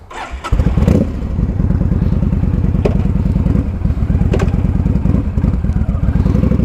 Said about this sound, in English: let's ride this bike